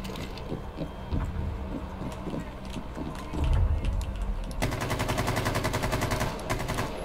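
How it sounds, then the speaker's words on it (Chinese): Gunfire crackles in a Rainbow Six match, with scattered shots at first and then a fast, rapid-fire burst in the latter half, moderately loud over faint game ambience. "这里有枪声哎"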